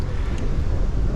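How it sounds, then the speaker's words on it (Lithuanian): Headwind buffeting a microphone while cycling out of a city on a summer ride, a steady broadband rumble of wind noise heavy in the low end, loud and continuous with no speech. "kol kas vėjas į kaktą."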